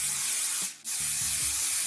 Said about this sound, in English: So this first of all is the Maria Neela Volume Spray, and we are going to spray this all into the roots throughout.